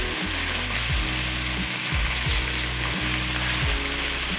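Vegan chicken and vegetable stir-fry sizzling steadily in a pan as cashew nuts go in, a constant dense frying hiss over a low hum, close and even throughout with no voices.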